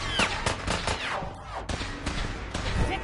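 Rapid gunfire rings out in the Fallout 4 video game: a quick string of loud, sharp shots close by, some overlapping, over a busy game backdrop.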